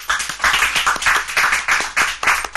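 A studio audience on a French TV quiz show clapping in a steady rhythmic beat, loud and close, with regular bursts repeating without pause.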